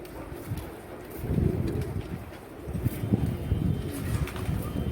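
Pigeons coo softly on a rooftop, their low, rolling calls repeating over steady wind noise with no voices.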